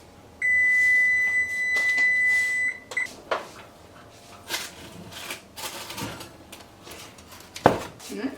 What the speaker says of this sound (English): Now we set the timer for about 20 minutes.